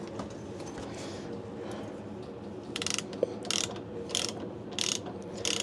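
A ratchet with a 12 mm socket tightens bolts on a VW T2 van during heater and exhaust pipe work, giving short bursts of rapid clicking that repeat four or five times over a steady background hum.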